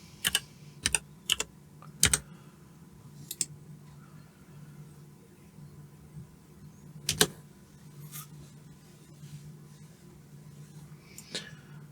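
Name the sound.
typing a command on a computer keyboard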